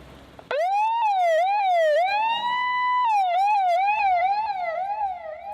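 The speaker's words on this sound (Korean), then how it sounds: "출발을 알리는 사이렌 소리와 함께 백신 수송 작전이 시작됐다" A loud, close siren signals the departure of a vaccine transport convoy, wailing alone, sweeping up and down in a repeating pattern, then settling into a steady tone before the yelping resumes.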